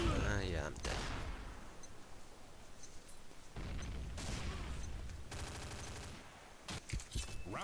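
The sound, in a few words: G36 rifle shots in video game Combat Arms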